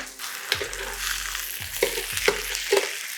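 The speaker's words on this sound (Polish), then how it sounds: "jedyne co nam teraz zostało to dosłownie przyrumienić stek" Steak searing in a very hot pan, a steady loud sizzle broken by several sharp crackling bursts as the meat is moved or stirred, close and alone without talk.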